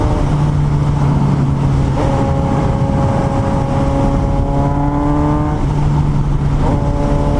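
A 2018 Suzuki GSX-S 750 motorcycle accelerating at steady throttle, its continuous loud engine drone climbing slowly in pitch under constant wind rush, with no voices.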